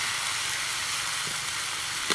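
Carp sizzles loudly in a hot frying pan while being cooked for braised carp with pickled greens. The frying hiss is steady and close, with faint stirring noises and no talking.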